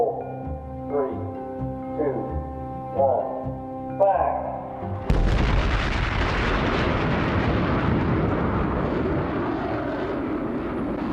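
A Regulus missile fires off on its rocket boosters: a sudden loud roaring blast breaks in after a few seconds of tonal beeping and keeps rushing on, slowly easing.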